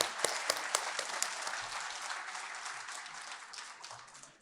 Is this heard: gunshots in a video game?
no